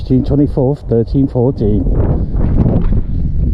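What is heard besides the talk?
wind blowing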